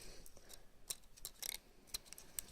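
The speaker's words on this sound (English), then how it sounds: "you just gently snip those off" Scissors gently snip small connecting bits off cardstock paper bows: a series of faint, crisp, close snips at irregular intervals over quiet background hiss.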